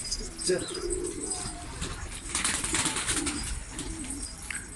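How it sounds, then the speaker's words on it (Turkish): A pigeon coos softly in low repeated calls, with faint bird chirps and quiet background voices around it. "Kuş geldi kendi ayağıyla"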